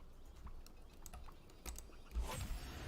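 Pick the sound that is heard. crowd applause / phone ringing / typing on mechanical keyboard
typing on mechanical keyboard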